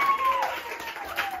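Audience clapping at a live contest show, voting for contestant number three, with scattered claps under some voices and chatter throughout the short burst.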